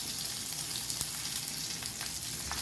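Fish pieces fry in hot oil in a pan, giving a continuous, close, crackling sizzle with small pops and no talking.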